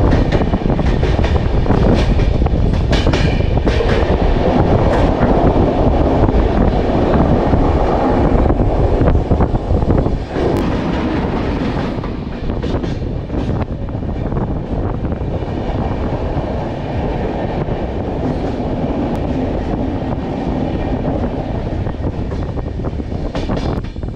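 The Lal Kuan Express rumbles loudly and continuously as it enters a short tunnel on an Indian railway line, with heavy wind buffeting and a dense roar that eases slightly partway through.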